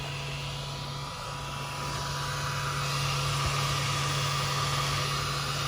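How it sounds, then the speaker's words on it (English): Cooling fan of a LASFIT Pro LED headlight bulb on a Toyota whirring steadily, a continuous fan drone with a faint tonal hum that grows slightly louder over time. "One thing I noticed with this compared to my xenon depots is that you can really hear this fan."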